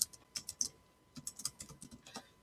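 Quick bursts of typing on a computer keyboard, close and crisp, with short pauses between clusters of keystrokes and no talking.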